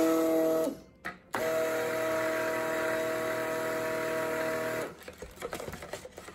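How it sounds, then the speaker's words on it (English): A stick blender whirs in cold process soap oils, a steady motorized hum running in two bursts with a short pause between, then stopping into quieter stirring and clinking. "Let's blend these together."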